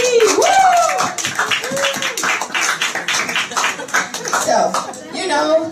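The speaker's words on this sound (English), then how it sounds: "Let's give applause to Woo!" Brief applause and a few cheers break out from a small live show audience of EVS volunteers in Bulgaria, mixed with loud talking and laughter nearby.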